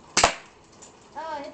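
A single sharp, close airsoft gun shot cracks out early, followed by quiet and then a short whistling tone near the end.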